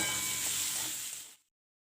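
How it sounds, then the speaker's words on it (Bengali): Potato pieces frying in oil in a pan over a medium gas flame, a steady close hissing sizzle that continues without pause and then cuts off abruptly. "গ্যাসের ফ্লেম মিডিয়াম রেখে আমি 2 মিনিট ধরে আলুগুলোকে ভেজে নিয়েছি।"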